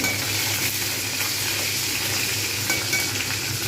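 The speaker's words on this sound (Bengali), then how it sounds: "শুকনো লঙ্কা কাঁচা লঙ্কা একটুখানি ভালোভাবে আমি নাড়ব" Loud, continuous sizzling of dried and green chillies frying in hot oil, with faint scraping as they are stirred in the pan; no voices.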